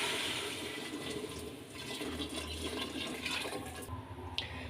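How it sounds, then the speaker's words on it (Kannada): Water pours steadily into a pot of kidney beans being cooked for a masala curry, a continuous close rushing splash that tapers off at the end. "ಈಗ ನೀರು ಹಾಕ್ಕೊಳ್ಳೋಣ."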